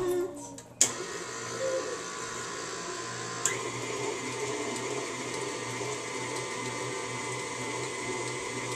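An electric mixer whirs steadily through Toll House cookie dough for a cookie pie after a sharp start, a constant motor drone with a brief clunk partway through.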